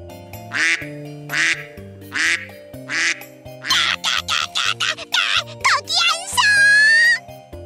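A duck quacks over and over, first a few spaced quacks, then a rapid flurry ending in a long drawn-out call, close and loud over light music.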